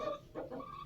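An Aseel rooster of top-quality breed gives a short, close cluck, a quick pair of throaty calls in under a second, alone.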